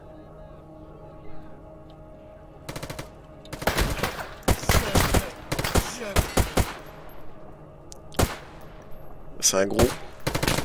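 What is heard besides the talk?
gunshots in the video game S.T.A.L.K.E.R. GAMMA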